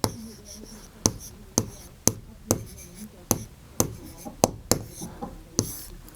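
Chalk or marker taps and strokes on a board as a word is written during a class 3 maths lesson, a series of sharp knocks roughly every half second with faint scratching between.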